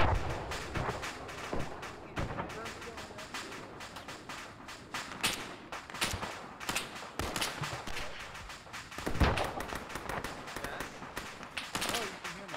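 An aircraft gun run in the military sim Arma 3 plays out as a long, busy stretch of sharp cracks and thumps from gunfire and impacts, some near and some far, mixed with radio-style speech.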